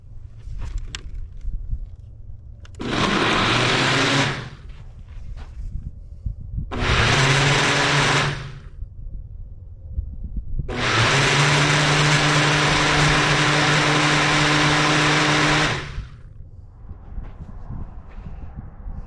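A kitchen blender whirs loudly while making a smoothie, running in three bursts: two short pulses and then a longer steady spin of about five seconds, with quiet room noise between them.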